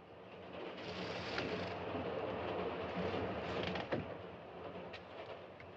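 A passenger train running, a steady broadband rumble and rattle of carriages that stays loud throughout, with a few brief clanks and squeaks, including a sharper knock near the end.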